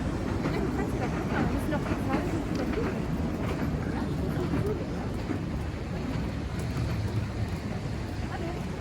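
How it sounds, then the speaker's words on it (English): A small tourist train rumbles past at a steady pace at a Frankfurt Christmas market at night, a continuous low rolling clatter with faint background noise throughout. "It's a little choo-choo train."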